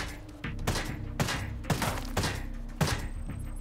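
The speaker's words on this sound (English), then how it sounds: "I guess I shot that man through the wall." Repeated gunfire in the tactical shooter Ghost Recon Breakpoint: four or five heavy, punchy shots at irregular intervals over a steady low background hum, with no talking.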